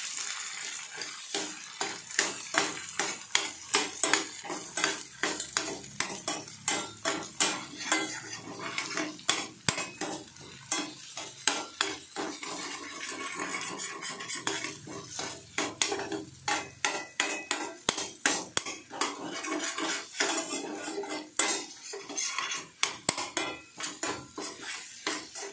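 Metal spoon repeatedly scraping and clanking against a pan while stirring a drumstick flower and egg stir-fry, a steady run of sharp close clinks for the whole stretch, no talking.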